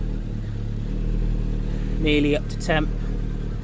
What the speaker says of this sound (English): I do need to fix that blowing exhaust though.